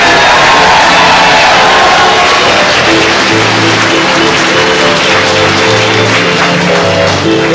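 A large studio audience at a 1978 Irish quiz show in Drumshanbo cheers and whoops loudly and continuously, a dense roar of crowd noise with no speech over it.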